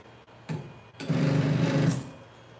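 An ELEGOO Neptune 3 Pro 3D printer homes its axes, with a brief whir, then a sustained buzzing stepper-motor drone of about a second that stops abruptly, close and moderately loud.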